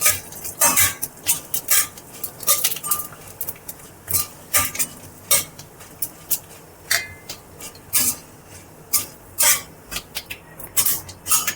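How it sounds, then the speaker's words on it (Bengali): A spoon scrapes and clinks in a pan as dried red chillies, bay leaves, black mustard seeds and five-spice seeds temper in hot oil, in irregular sharp strokes with a faint sizzle underneath and no talking. "আমি একটু নাড়াচাড়া করে নেব।"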